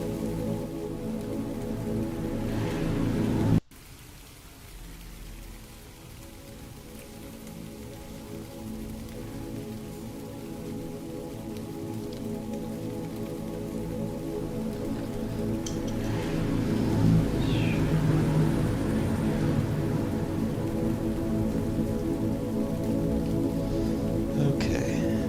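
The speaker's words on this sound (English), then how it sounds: "It's raining here" Rain falls steadily, a continuous pattering hiss near at hand under a sustained low tonal drone, briefly cut off early on and then swelling louder toward the end.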